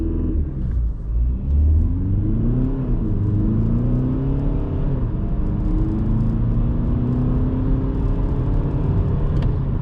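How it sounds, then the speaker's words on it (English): Volkswagen Golf 8 (2020) launching at full throttle under launch control, with loud in-cabin engine rumble rising in pitch through several gear shifts. "we're gonna stop here and do a launch control"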